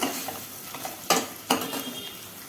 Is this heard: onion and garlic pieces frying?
yes